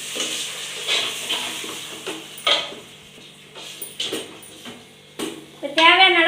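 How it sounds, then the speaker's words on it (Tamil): Boiled mutton poured into a pan of sautéed onion and tomato, heard as scattered spoon scrapes, clinks and light sizzling, with a hissing burst of frying near the end. "இப்போ நம்ம வேவிச்சு வச்ச மட்டன் வந்து ஊற்றிக்கலாங்க."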